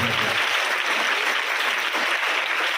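An audience at a girls' high school event in Nidadavolu claps for the Rotary Club, a dense, continuous burst of applause holding steady and close for the whole moment.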